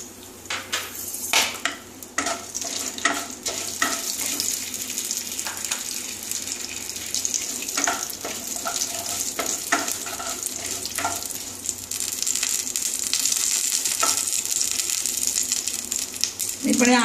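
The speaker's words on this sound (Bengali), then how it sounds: "সর্ষে ফোড়ন দিচ্ছি" Mustard seeds tempering in hot oil for a raw mango sour dal, giving a continuous hissing sizzle dotted with sharp crackling pops, close and fairly loud, with no talking.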